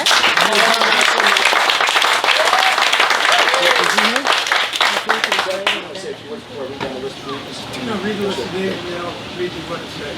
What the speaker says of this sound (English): a big round of applause for the United States Coast Guard